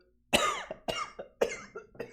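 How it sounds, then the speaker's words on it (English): Four sharp coughs in a quick uneven series, close to the microphone, each with a rough trailing tail, and no talking. "Sorry for the cough."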